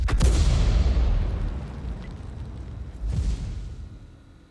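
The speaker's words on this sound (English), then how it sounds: "There was the shell from the M40, M43 coming in." Incoming artillery shells from an M40/M43 in a tank video game: a loud booming explosion at the start with a long rumbling decay, then a second softer blast about three seconds later.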